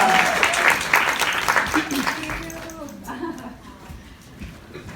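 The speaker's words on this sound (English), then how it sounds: "let's give her a round of applause and invite her on stage" An audience at a London acne summit on skin of colour gives dense applause that gradually thins and fades, with talking emerging toward the end.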